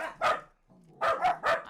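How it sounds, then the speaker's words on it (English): Several house dogs bark at a neighbor arriving home: one sharp bark, a brief pause with a low growl, then three quick loud barks in a row, close by. "the dogs have to let me know that the neighbor has arrived home"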